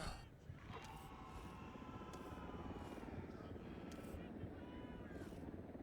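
A helicopter in the video game Delta Force drones with a steady, low rotor and engine rumble that fills the background at low volume, with faint voices over it.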